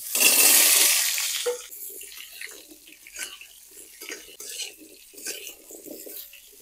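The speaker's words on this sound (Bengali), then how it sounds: "তেলটা একটু নেড়ে চেড়ে আমটা ঢেলে দেব।" Mango pieces tipped into hot oil with dry chilies and five-spice give a brief, bright sizzling burst, then a quieter crackle continues under talking.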